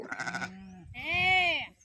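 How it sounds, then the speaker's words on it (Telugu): A lamb in a fenced enclosure bleats twice, a short wavering call followed by a longer, louder drawn-out bleat, close by. "ఈ గొర్రెలు ఫోన్ చూసి అదే పనిగా ముందుకు వస్తున్నాయి"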